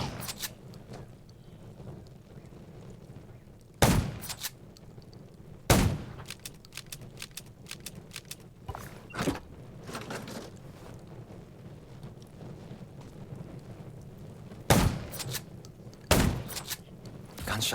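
Gunshots in a zombie survival video game crack out as scattered sharp single reports and short bursts over a steady wind-like engine rumble, with several loud shots spaced irregularly.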